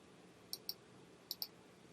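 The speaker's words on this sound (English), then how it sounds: "You can hear my mouse clicking" Computer mouse clicks during digital restoration of an old baby photo: two quick pairs of sharp, close, quiet clicks against faint room hiss, with no speech.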